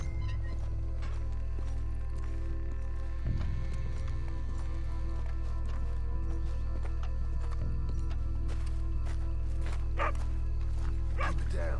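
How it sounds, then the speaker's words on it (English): Dog barking repeatedly in the Red Dead Redemption 2 video game, heard over a steady low in-game ambience with occasional hoof-like clatter, continuing across the whole stretch. "Dog barking."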